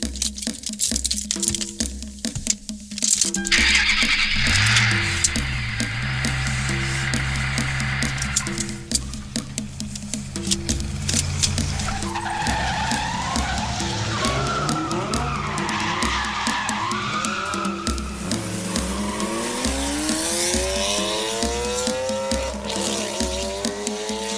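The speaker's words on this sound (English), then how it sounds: "He starts the car and speeds away" Car engine starting and revving hard with loud tire squeals and skidding as it speeds away, a dramatic sound effect in an audiobook, sustained and close throughout.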